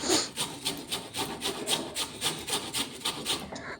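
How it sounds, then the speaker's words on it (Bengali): A raw potato is scraped against a grater in steady, rhythmic rasping strokes, about three per second, close and moderately loud, with no voices. "আলুটা কুড়িয়ে নিচ্ছি"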